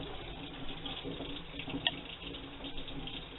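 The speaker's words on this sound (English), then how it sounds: "we'll just wash it off just to be safe" A cucumber is rinsed under a running kitchen tap, with a steady, fairly quiet stream of water splashing and a brief brighter splash midway.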